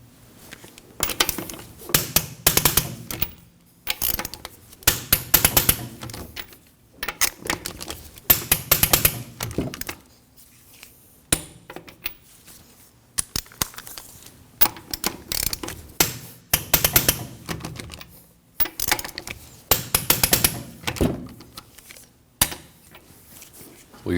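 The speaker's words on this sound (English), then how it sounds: "We can torque these to 80 foot-pounds in a star pattern." A torque wrench tightens lug nuts on a 2003-2006 Subaru Baja in a star pattern, repeated bursts of ratcheting clicks separated by short pauses, close and fairly loud.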